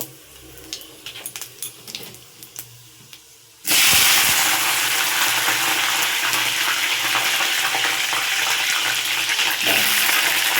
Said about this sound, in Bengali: এবার আমি এর মধ্যে আলু ফুলকপিটা ঢেলে দেব।